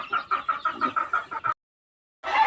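Chickens on a poultry farm cluck in a quick repeated run, close and moderately loud, before a sudden break of silence and a brief burst of noise.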